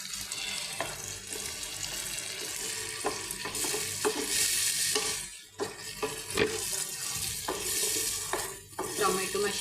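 Mixer-blended tomato puree goes into a hot pan for paneer masala and sizzles as a spoon scrapes and stirs it, with steady frying hiss broken by repeated stirring knocks.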